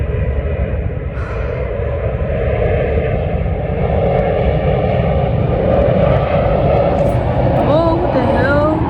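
An airplane flies overhead, a broad, steady engine roar that lasts the whole time and holds at a fairly even loudness, with some background noise but no clear talking.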